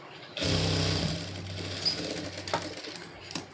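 A sewing machine stitching a seam on a garment lining; a close, loud burst of motor whir starts abruptly, then slows and trails into intermittent clicks and short runs.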